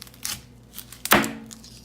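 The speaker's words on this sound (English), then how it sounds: "Cut the onion in the middle." Knife cutting an onion in the middle on a board, a few soft crackling crunches followed by one sharp, loud thunk of the blade striking through, then a quieter tap.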